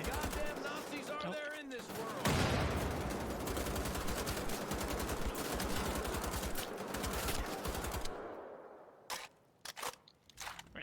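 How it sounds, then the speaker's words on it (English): Rapid gunfire from Wolfenstein: The Old Blood, a dense sustained burst of shots with explosive crunches that runs loud for several seconds before cutting off into a few scattered sharp reports. "we're just gonna shoot these guys up, really"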